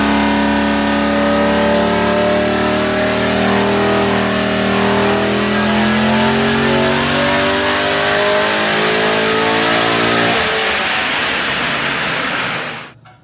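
A Holden VF SS Ute with a 6-litre V8, Chopper Reid camshaft and automatic transmission revs hard on a chassis dyno, its loud engine climbing steadily in pitch through the gears before dropping away as the throttle closes.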